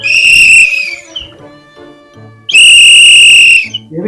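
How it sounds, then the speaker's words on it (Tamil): Two loud, shrill whistle blasts, each held for about a second, with a quieter pause between them and no talk. "எதுக்குடா விசில் அடிச்ச?"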